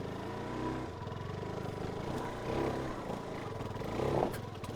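A Suzuki DRZ4S dirt bike on worn tires climbs a loose hill after rolling over a log, its single-cylinder engine thrumming close by with rising and falling revs and a few surges.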